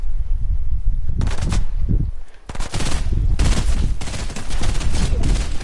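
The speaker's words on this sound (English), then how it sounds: "this kid right here is shooting at me" Rapid bursts of automatic gunfire in a Fortnite match, loud and close, with a brief lull before the shooting resumes in sustained volleys.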